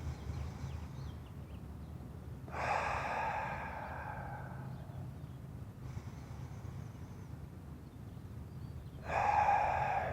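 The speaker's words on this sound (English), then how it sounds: "In through your nose, out through your mouth." Deep recovery breaths drawn in through the nose and let out through the mouth, three airy exhales spaced a few seconds apart with quieter inhales between, close and clear with no talking.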